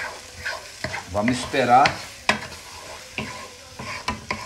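Eggs already mixed with seasonings sizzle and fry in a pan while a spoon stirs them for scrambled eggs, with scraping strokes and sharp clicks over a steady crackle; a voice speaks briefly.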